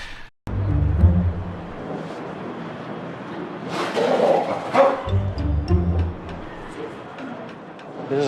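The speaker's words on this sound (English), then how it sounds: "some random barking dog comes wandering through off leash" An off-leash dog wanders through a restaurant, giving a few barks and yips at moderate distance amid restaurant chatter and voices.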